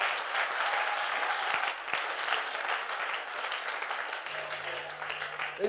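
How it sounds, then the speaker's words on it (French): Church congregation at a French-language worship service applauding and cheering for Jesus, a sustained wash of clapping from a crowd, fairly distant, with some voices mixed in. "Allez, acclame puissamment Jésus."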